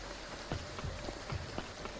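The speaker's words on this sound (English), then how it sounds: "It's raining." Steady rain in the video game Graveyard Keeper, a constant soft patter with scattered louder droplet hits, heard alone at low volume with no talking.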